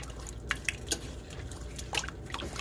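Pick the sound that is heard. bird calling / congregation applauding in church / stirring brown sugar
stirring brown sugar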